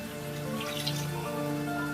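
Water is poured into a pot of lamb nihari in a steady, continuous splash that runs unbroken and fairly loud throughout, with no voices.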